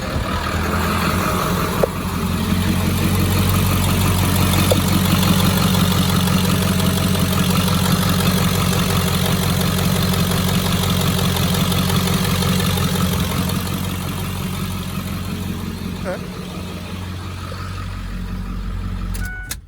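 A 2002 Ford 7.3 diesel truck engine fitted with a KC300x Stage 2 turbo cranks and settles into a steady, loud, close idle with a deep rumble and faint turbo whine, and no voices.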